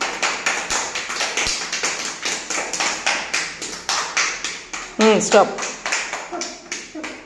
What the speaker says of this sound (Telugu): క్లాప్స్ కొట్టండి అఖిల్కు